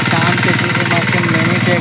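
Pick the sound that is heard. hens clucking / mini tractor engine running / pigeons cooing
mini tractor engine running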